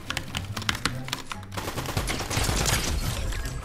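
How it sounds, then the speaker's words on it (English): A drum gun fires in Fortnite ranked play: a rapid string of staccato automatic shots that merges into a dense, sustained roaring burst, loud and close with no talking. "I just clipped him with my drum gun"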